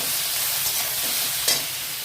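Ground coriander and turmeric powder being stirred in a hot pan with oil, a steady sizzle and frying hiss with a soft scrape of the spoon partway through.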